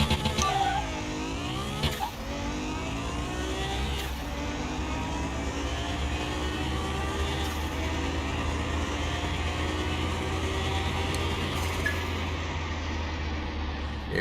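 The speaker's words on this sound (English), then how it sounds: "Porsche 911 Carrera" A tuned Porsche 911 Carrera on slicks races in Car Mechanic Simulator 2021, its engine droning steadily through long rising pitch sweeps as it climbs through the gears, with occasional brief shift dips and no talking.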